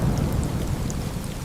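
A rainy-season thunderstorm over Makassar: dense, steady rain hiss with a low rumbling undertone, continuous and fairly loud throughout.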